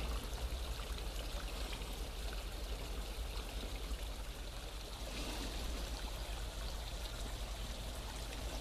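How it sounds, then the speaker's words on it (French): Steady rushing of tap water pouring into a garden pond, a continuous splashing trickle with no voices. "je remets de l'eau du robinet"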